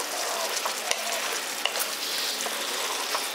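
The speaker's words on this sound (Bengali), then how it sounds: "দেখুন মশলাটার সঙ্গে ভালো করে একবার কষিয়ে নিচ্ছি।" Pointed gourd curry being sautéed with spices in a pan, a soft steady sizzle broken by sharp clicks and scrapes of a spoon stirring, close and moderately loud.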